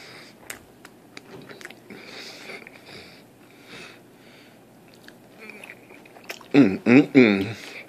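Biting into and chewing a Popeyes apple cinnamon pie, heard as a few loud, close crunchy bites near the end after a stretch of quiet mouth noises and faint background sound.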